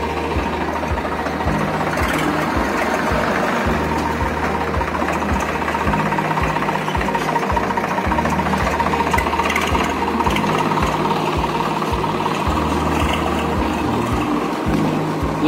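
A tractor engine runs on a farm plot in a Punjab village, a steady low rhythmic chugging that carries on without a break at close range.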